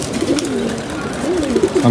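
Pigeons from a breeding loft coo in low, rolling phrases that repeat through the stretch, close and fairly loud against a steady background.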